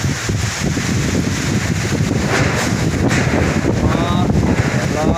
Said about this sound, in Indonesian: angin gede.